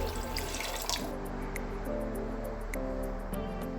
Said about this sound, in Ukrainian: До чанахів доливаю воду.